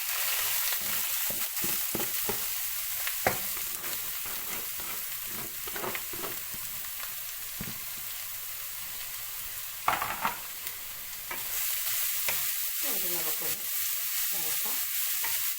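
Sliced bitter gourd fries in coconut oil with dried red chillies over a low flame, giving a steady close sizzle broken by scraping stirs and occasional clinks of the spoon against the pan, with no voices.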